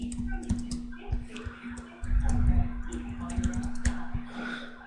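Rapid, uneven clacking on a computer keyboard, keys pressed in quick bursts close by over a steady low hum.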